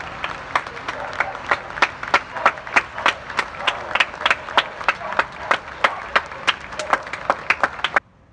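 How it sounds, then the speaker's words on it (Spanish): Rhythmic clapping at a Buenos Aires gathering honoring health workers, a single close set of sharp claps in a steady even beat about three per second, stopping abruptly near the end. "Sigamos aplaudiendo, vamos."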